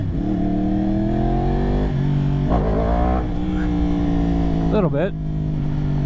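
A tuned 2022 Yamaha R1 sport bike with a flashed ECU revs through several throttle surges, the engine note climbing and dropping with a sharp blip near the end. A brief spoken phrase is heard.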